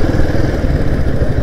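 A Royal Enfield Himalayan 450 motorcycle engine runs steadily close by, a loud, continuous mid-pitched rumble with a clattering texture and no pauses.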